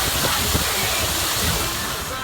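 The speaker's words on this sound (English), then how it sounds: "This waterfall is awesome." Water rushing down a waterfall at Valleyfair amusement park, a steady broadband roar that fills the whole clip at close range, with faint talk mixed in.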